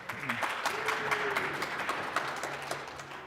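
Scattered clapping from a few people in an online meeting, thin and faint, with uneven hand claps spread over a few seconds and a little background noise.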